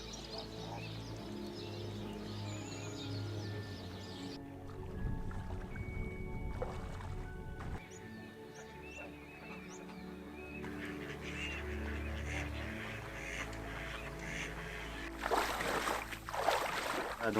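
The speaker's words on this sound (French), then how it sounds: "Donc là on a des canards siffleurs." Eurasian wigeon ducks call faintly from open water, with scattered whistles and quacks over a low, steady rumble.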